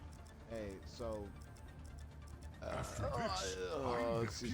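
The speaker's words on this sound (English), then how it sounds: "excuse me, I burped" A single short burp from a gamer in the middle of an Overwatch match, heard among speech and game noise rather than standing clear on its own.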